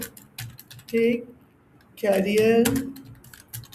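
Light clicks of typing on a computer keyboard sit under someone speaking in Hindi, the close tapping scattered between and beneath his words.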